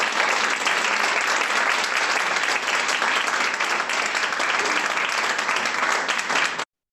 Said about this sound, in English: let's have a big round of applause to you from our audience